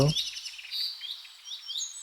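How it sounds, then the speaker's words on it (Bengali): Birds chirp and tweet around a Buddhist monastery in Ramu, giving bright, high calls that repeat through a quiet setting after a short low thump at the start. "চারিদিকে পাখিদের কোলাহল"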